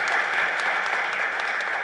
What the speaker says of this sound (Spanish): Un fuerte aplauso entonces